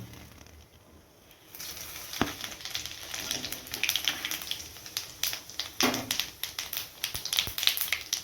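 Cumin seeds hit hot oil after a quiet moment, bursting into a bright crackling sizzle with sharp pops and spits that continue unevenly, close and fairly loud.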